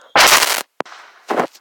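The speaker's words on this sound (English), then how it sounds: "There's fireworks going on right now." Fireworks going off outside, heard as sharp loud bangs and crackling bursts. One long crackle is followed by a single snap, a fizzing tail and then another burst, with no talk.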